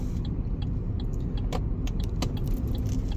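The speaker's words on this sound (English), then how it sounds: "I'm just pulling into the car park now" A car pulling into a car park at a Wetherspoons pub gives a steady low engine and road rumble from inside the cabin, with light rattles and clicks on top.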